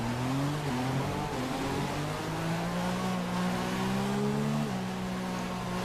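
Race cars on a formation lap at Bahrain in F1 2016 drone steadily at moderate revs, engine pitches gliding up and down as the cars hold a slow, patient pace, continuous and close.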